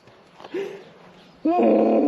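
Dogs on a street during a long city walk give a short near bark, then a louder drawn-out bark or growl right up close, with no talk over it.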